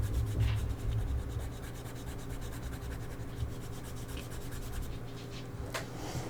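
Steady soft rubbing and scratching of an eraser on paper while cleaning up an ink drawing at a desk, a continuous close, quiet rasp with small bursts of stroke noise near the end.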